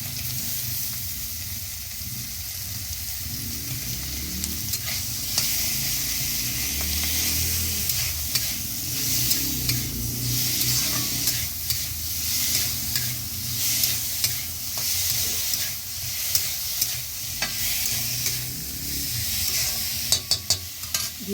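Two small chopped tomatoes sizzling in a pan of dal with spinach and vegetables, a continuous close frying hiss broken by frequent stirring scrapes and light utensil taps, with no voices.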